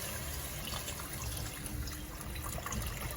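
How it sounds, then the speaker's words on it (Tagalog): Water pours steadily from a tap into a cooking pot for chicken soup, a continuous close splashing rush without any talking. "I'm adding water na po pa overseas mom"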